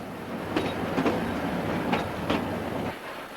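A passenger train runs along a railway line high above a gorge, its wheels sending a steady rolling roar with a few sharp rhythmic clacks over the rail joints, fairly close and continuous.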